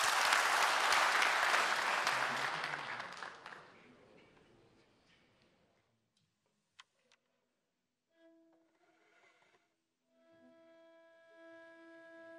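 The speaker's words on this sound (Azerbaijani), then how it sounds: "Əlbəttə ki, alqışlarınızla." Audience applause at a mugham competition, loud dense clapping that fades out over about five seconds, followed by near silence with a couple of small clicks and then faint instrumental tones.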